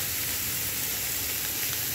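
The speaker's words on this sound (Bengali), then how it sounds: "কড়াই তেল গরম হওয়ার পর পেঁয়াজটা আর ড্রাই ফিশটা একসাথে দিয়ে ভালোভাবে নেড়ে চেড়ে ভালো করে ভাজা করে নেব।" Onion and dry fish hit hot oil in a wok and sizzle loudly and evenly at close range, a dense continuous hiss with no voices.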